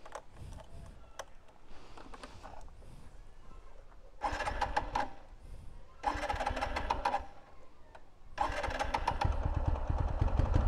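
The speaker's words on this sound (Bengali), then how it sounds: "ওর বাইকটা স্টার্ট হোক, তারপরে আসি।" A motorcycle engine cranks and catches in bursts on a roadside stop on a valley trip near Cox's Bazar, with three loud surges of engine revving between quieter stretches of idling and background murmur.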